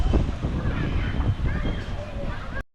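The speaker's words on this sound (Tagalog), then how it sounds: "Lakas ng hangin guys." Strong wind buffets the microphone in loud, gusty rushes, roaring unevenly before cutting off abruptly at the end.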